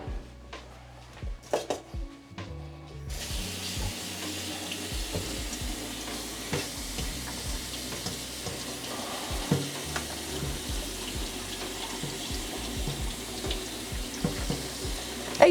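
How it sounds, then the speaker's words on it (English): A sink tap runs steadily while green beans are rinsed under it, a constant wash of water with light clatters and splashes, after a brief quieter moment at the start. "So I just want to be sure that I rinse"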